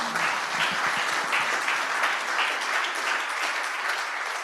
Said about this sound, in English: he deserves another round of applause for his comments